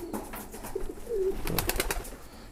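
Pigeons in a loft give a few soft, throaty coos close by, with a quiet rustle of birds and the coop around them.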